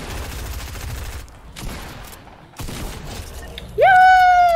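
Gunfire in the video game Fortnite: loud bursts of shots with sharp breaking impacts in quick succession, broken by brief gaps, then a rising electronic tone.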